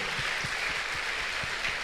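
Congregation clapping hands in rhythm at an apostolic church forum session, steady beats roughly every quarter second over a hall's background wash, no voices.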